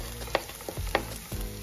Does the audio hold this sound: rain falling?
no